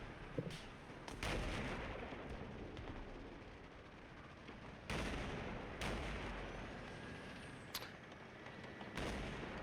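Heavy tank gun blasts in War Thunder aimed at an AA gun, several deep booming shots spaced a few seconds apart over a constant rumbling engine and battle background.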